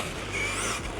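Kagama 6S RC truck doing backflips, a short, steady high electric motor whine with tyre and chassis noise close by, lasting about a second.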